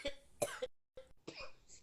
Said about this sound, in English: excuse me, I've got this terrible cough.